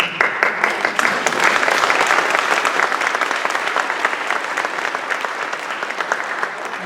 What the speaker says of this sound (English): I don't know why you're cheering at that one.